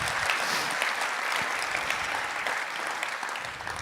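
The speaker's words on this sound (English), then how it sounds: "Let's give them a round of applause." Steady, dense applause from a large audience at the ITC 60th anniversary celebration, sustained and fairly loud throughout with no break.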